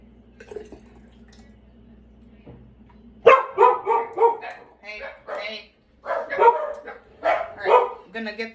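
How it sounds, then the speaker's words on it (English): A run of dog barks from about a second and a half in, several sharp bursts in close succession, fairly loud and nearby. "Sorry about the dogs."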